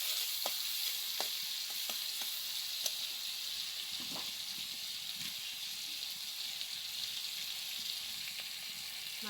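Prawns frying in a pan for a curry give a steady, close sizzle with faint stirring scrapes and occasional small pops, running continuously with no voices.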